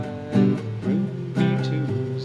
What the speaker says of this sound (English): we're going to strum each chord 4 times, unless there's one chord in a measure